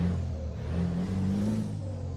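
A Scania truck engine in Euro Truck Simulator 2 roars in a continuous deep, revving drone, close and steady with a slight rise in pitch.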